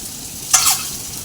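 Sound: eggs frying in oil with turmeric

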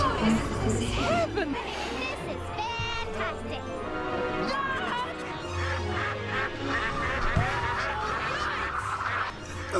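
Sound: ducks quacking in played cartoon

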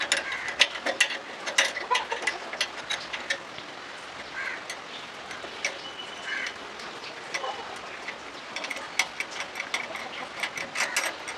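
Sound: loosening the nut of a bicycle handlebar

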